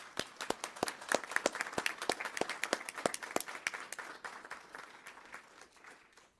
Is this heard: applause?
yes